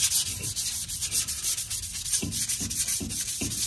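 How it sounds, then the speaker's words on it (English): A rear brake rotor from a 2007 Ford Sport Trac is rubbed with 400 grit sandpaper, a close, steady scratchy hiss with several distinct back-and-forth strokes toward the end. "What I'm gonna do is I got some 400 grit sandpaper."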